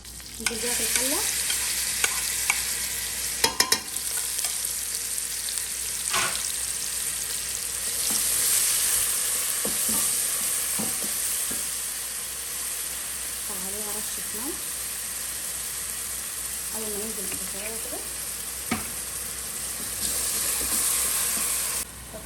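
Chopped onion hits butter and oil in a pot, a steady sizzle and fry hissing throughout, with someone talking intermittently over it and occasional clinks of a spoon against the pot.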